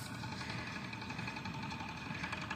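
An MTZ tractor engine runs steadily while baling hay in a rural field next to a vegetable garden, a continuous mid-pitched rumble with faint knocking, heard from a moderate distance without pause.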